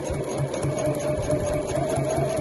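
A sewing machine runs steadily through placemat fabric with backing underneath, a close, continuous whirring hum with a faint rhythmic needle pulse throughout.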